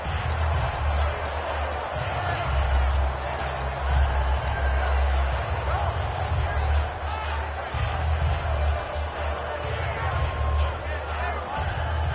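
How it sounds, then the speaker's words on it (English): Football stadium crowd at an NFL game, a dense continuous roar and babble filling the whole stretch at steady loudness, with broadcast commentary talking over it. "And this crowd into it early."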